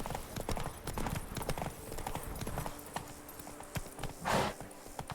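Hooves of Roach, a horse in The Witcher 3, beat out a quick galloping clip-clop, loud and close, with a brief snort or whinny near the end.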